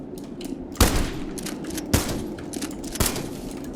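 Frag grenades burst in the retro shooter Metal Garden, three sharp booming blasts roughly a second apart over a busy bed of game noise and gunfire, loud and close.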